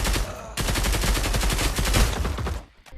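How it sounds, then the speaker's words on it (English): Rapid automatic gunfire crackles in a VR shooter game, a dense, loud burst of repeated shots lasting a couple of seconds before cutting off, followed by a brief quieter pop. "I'm getting shot from the roof"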